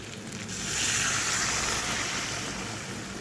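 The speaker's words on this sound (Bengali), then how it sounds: "মাছগুলো দিয়ে অল্প নাড়াচাড়া করে এবার জল দিয়ে দেব।" Water poured into a pan of fried bhetki fish pieces, a swelling rushing hiss that builds and fades over a few seconds, close and alone.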